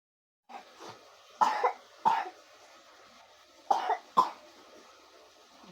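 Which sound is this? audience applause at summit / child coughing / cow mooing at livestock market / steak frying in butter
child coughing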